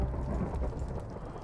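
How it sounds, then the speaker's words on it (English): Steady rain and a low thunder rumble fill a night-time video game world, a continuous dense wash of sound with no voices. "Now it's night and the thunderstorm."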